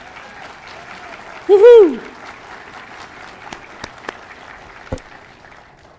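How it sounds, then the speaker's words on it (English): Commencement audience applause at a community college ceremony: a steady, distant wash of clapping runs throughout, with a loud whooping cheer rising near the start and a few sharp claps and shouts standing out afterward. "One more round of applause, please."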